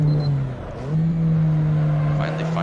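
An Alfa Romeo 4C in Assetto Corsa holds a loud steady engine drone, dipping briefly as revs drop and then rising and sustaining, with a faint voice talking underneath.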